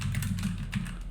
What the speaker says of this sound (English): So just type this as I'm typing it.